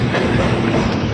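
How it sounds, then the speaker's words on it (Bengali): Local train passing on the Dankuni–Sealdah line, a loud, close, rushing rumble of carriages heard for a short moment. "আবার একটা ট্রেন ঢুকছে"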